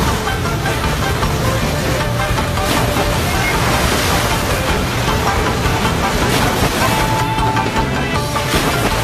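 A huge waterfall in the One Piece anime roars as a loud, steady broadband rush of crashing water that fills the whole clip without break.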